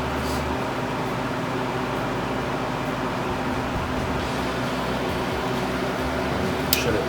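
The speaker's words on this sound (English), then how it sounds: "Turn the machine back on just for a second with the mixing auger and just kind of let it mix around for a second." A margarita machine runs with its mixing auger turning during a water rinse, giving a steady, even mechanical whir and hum throughout, with no talk.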